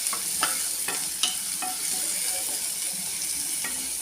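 Onion and coriander frying in a pan, a steady bright sizzle with several sharp scraping clicks from stirring spread through it.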